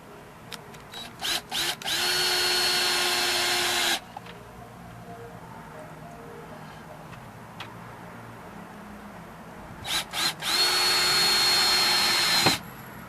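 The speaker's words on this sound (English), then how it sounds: "I'll put 2 screws in and let you take a look" Power drill driving two screws into plywood inside a minivan during a bed build, two close, loud whirring bursts of about two seconds each, with small clicks and handling noise between them and no speech.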